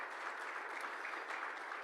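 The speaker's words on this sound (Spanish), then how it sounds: "¿Cuándo le pueden dar un aplauso al Señor, hermanos, por la vida de nuestros hermanos y hermanas?" A church congregation claps in steady, dense applause that holds at an even level from start to finish, with no voices rising above it.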